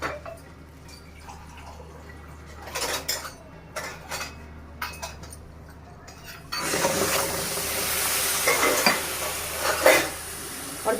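A spoon scrapes and stirs jaggery, sugar and water in a wok, with scattered clinks at first and then a steady bubbling, sizzling wash as the syrup heats.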